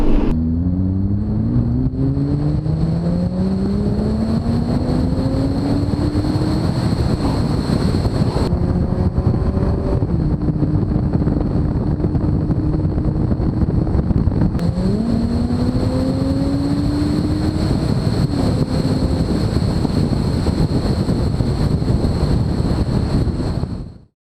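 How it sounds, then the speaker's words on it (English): A Lotus Evora GTE with a Lotus Sport exhaust revs and pulls through several rising gear changes, loud and throaty, with heavy wind roar throughout. "Get the Lotus Sport exhaust on your Evora. That's what it sounds like."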